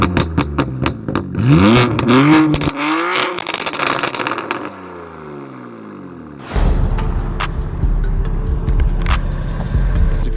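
A straight-piped BMW M4 F82 with an AWE track exhaust revs hard several times with a raspy, loud exhaust, drops to a low burbling idle, then barks back up with rapid crackling pops.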